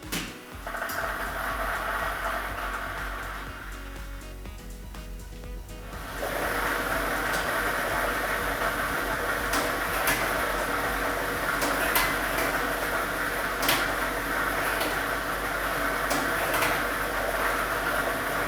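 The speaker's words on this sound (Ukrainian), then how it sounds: "Тиражна комісія до початку гри довільно обрала лототрон А комплект кульок номер 2 І ми вмикаємо лототрон." A lottery ball drawing machine at a state lottery draw is switched on, rising into a steady loud whirring rumble with a continuous clatter of balls tumbling inside, running alone without talk.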